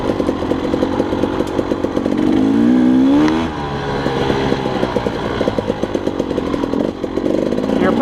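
Dirt bike engine buzzing steadily while riding mountain single track at Rampart Range, Colorado, close and continuous with a brief rev and rattling clatter from the trail.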